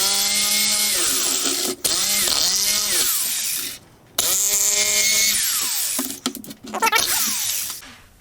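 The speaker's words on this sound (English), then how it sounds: "next step here is to cut out the notch where I'm going to be going up against a bracket on another shelf" Corded jigsaw cutting a notch into a wooden shelf, the motor whining loud and close in long bursts with falling pitch as it bogs in the wood, briefly stopping and restarting, then shorter choppy cuts at the end.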